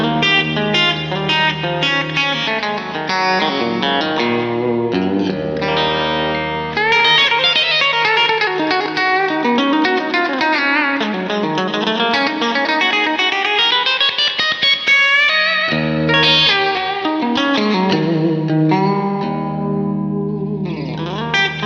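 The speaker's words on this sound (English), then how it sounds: "Now it's time for the bridge pickups, a full telly tone." A Novo Serus T electric guitar played through its bridge pickup with effects, a Tele-style tone heard as sustained, distorted chords and melodic lines with reverb, chorus and echo, loud and continuous with no talk.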